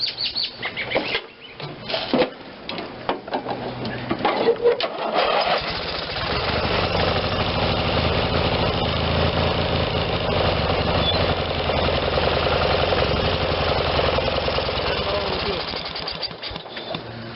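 A Briggs and Stratton twin cylinder tractor engine, left for dead, runs on carb cleaner and choke, a loud, close, rough and steady drone that sputters unevenly at the start before settling.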